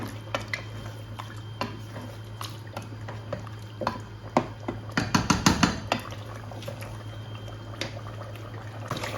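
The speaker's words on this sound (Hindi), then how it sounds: "गोश्त हमारा भून रहा है, अच्छे तरीके से भूनता है" Meat sautés in oil in a pot for a turnip and rice dish, with a steady low sizzle under close clanks of a spoon against the metal and a busy burst of scraping and stirring midway.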